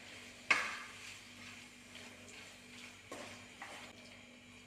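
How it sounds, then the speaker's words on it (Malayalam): Masala for a fish curry being stirred in a pan, with soft scraping of a spoon against the metal and a few sharp clinks, faint and quiet against a low background hum. "മസാല എല്ലാം മീൻ പിടിക്കുന്ന ലെവലിൽ ഇളക്കി കൊടുക്കണം"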